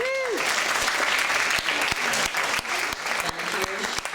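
An audience claps for hypnosis show volunteers at an after-prom event, a full round of applause filling the space, with a voice briefly heard over the clapping at the start.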